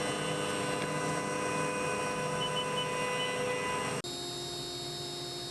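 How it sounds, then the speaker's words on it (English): Milling machine running in a machine shop, a steady tonal hum and whir with a constant wash of coolant-like hiss, unchanging until a sudden drop in level near the end. "The mill spins, coolant flows, chips scatter across the table."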